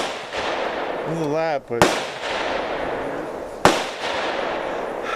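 Two sharp, loud gunshots crack about two seconds apart at the outdoor Elk Neck State Forest shooting range on a clear day, each with a short decaying tail, while a person speaks between them.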